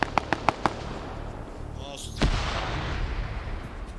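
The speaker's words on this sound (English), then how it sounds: "More grenades being thrown over." Four sharp cracks of gunfire in the Arma 3 military game, followed by a single heavy grenade blast with a lingering rumble trailing off over the next two seconds.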